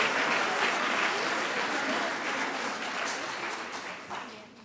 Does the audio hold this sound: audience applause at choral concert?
yes